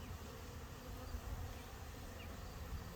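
Honeybees crowd over brood frames pulled from an open hive during a split, making a dense, continuous buzzing drone that stays close and steady with no talking.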